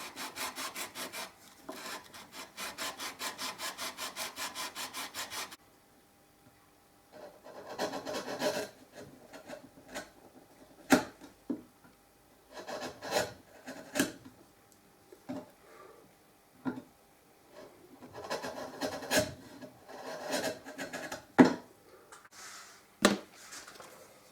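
Wood is filed off the dovetail shoulders of a Guyatone LG50 guitar neck: first a fast, even run of rasping strokes, then a pause, then slower irregular scraping and rubbing strokes with scattered knocks, close and fairly quiet.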